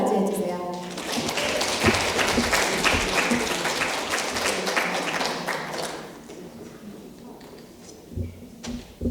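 Audience applause welcoming a speaker at a Korean-language speech contest in Toronto, loud dense clapping for about six seconds that thins into scattered claps and quiet.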